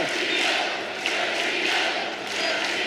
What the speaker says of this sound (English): The crowd is getting behind Desiante, calling Sergio.